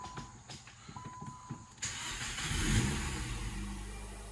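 A 2004 Nissan Sentra SpecV, suspected of a bricked ECU, cranks briefly and then catches, its engine settling into a steady, loud, close idle that rumbles on to the end.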